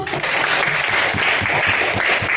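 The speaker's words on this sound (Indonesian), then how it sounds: "Oke, tepuk tangan dulu." Classroom audience at a school practice-teaching session breaking into loud, continuous applause, close and dense for the whole short stretch.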